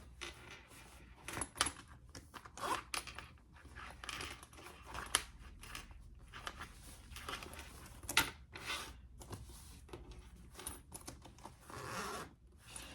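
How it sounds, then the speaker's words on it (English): Zippers on a Clarendon crossbody wallet being opened and closed, producing repeated close, scratchy zipping runs with small clicks and handling rustle, heard alone without speech. "Here's your zipper, and then you flip it up and you have another zipper."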